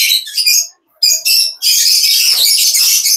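Lovebirds at a crowded bird market in Tongi, loud shrill chirps and squawks in quick bursts with brief gaps, then a dense continuous chatter from many birds close by.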